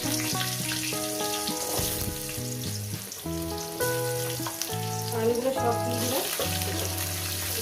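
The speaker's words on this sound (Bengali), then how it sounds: "এই তেলের মধ্যে দিয়ে দেবো শুকনো লঙ্কা পাঁচ ফোড়ন কয়েক ভেজে নেবেন" Dried red chillies and panch phoron fry in hot oil for a fish-head and spinach dish, a steady sizzle under prominent background music.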